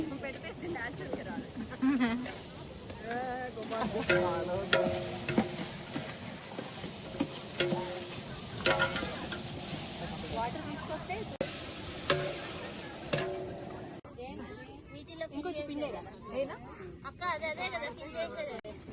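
Pakoda batter being stirred and mixed by hand in a bowl at an outdoor Karthika-month picnic cooking spot, with soft repeated stirring and sizzling frying under constant nearby chatter and voices.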